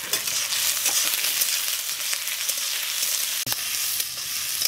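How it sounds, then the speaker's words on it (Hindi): Onions with cumin seeds and red chilli fry in a pan, a steady, close hiss and sizzle throughout, with faint stirring scrapes and one brief clack near the end. "इधर तो प्याज भून रहा है"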